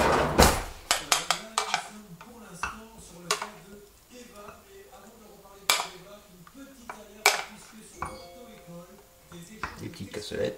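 A spoon fills ramekins with a mushroom and truffle mixture, giving sharp clinks and taps of metal against ceramic in irregular bursts, close up, with a person talking throughout.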